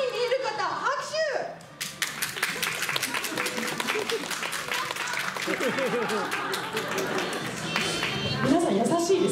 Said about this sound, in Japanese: ちょっとくまモンのお腹筋肉に見える方拍手。